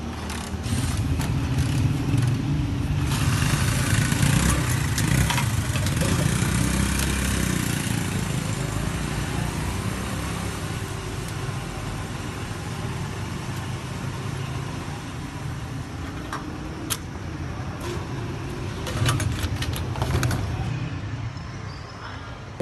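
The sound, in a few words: motorcycle engine while riding to shop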